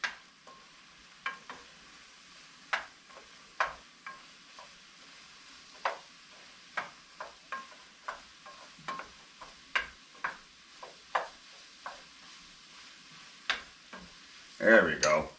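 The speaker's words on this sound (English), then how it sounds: "all we're going to do here is just wait till the eggs get cooked up" Eggs frying in a pan for breakfast, with a quiet background sizzle broken by frequent sharp pops and crackles scattered irregularly throughout, and a louder clatter right at the end.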